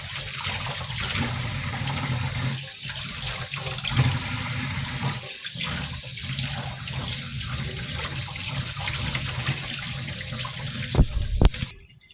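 Tap water runs steadily into a sink while fish is rinsed for a Thai fish soup, a continuous close splashing and trickling with a few brief louder gushes near the end before it stops.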